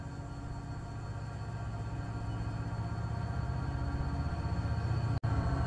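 A freight train in the Run8 Train Simulator rolls past on the line toward Barstow, a steady low rumble and drone holding throughout, broken by one sharp click near the end.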